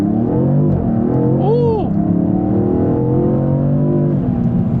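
A 2026 Dodge Scat Pack launches hard from a stop in a 0 to 60 run, its loud engine note climbing, dipping at the shift and climbing again, heard from inside the car, with a brief exclamation from a person.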